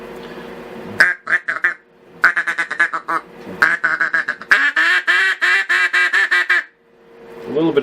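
A custom-made duck call is blown up close in bursts of raspy, rapid quacks, short choppy notes first, then a longer rolling sequence of descending quacks, with brief silences between runs.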